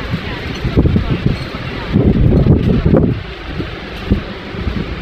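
Strong wind roars and buffets against the microphone in heavy low gusts, loud and close, with a voice talking over it.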